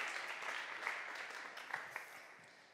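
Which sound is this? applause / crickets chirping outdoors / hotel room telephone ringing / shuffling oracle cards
applause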